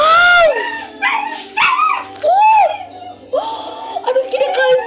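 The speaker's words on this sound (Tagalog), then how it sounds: "Saan nyo to kinuha ang aso na to?" Dog in the game Minecraft barking and yipping in a series of loud, close, pitched yelps with whimpering notes, alternating with short pauses.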